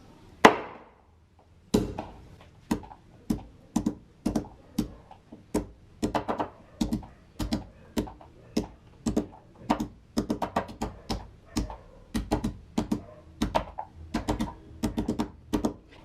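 Naga garlic chives (lasoon) crushed one small piece at a time, giving a steady series of sharp, close pounding knocks at an irregular, quick rhythm, with no talk.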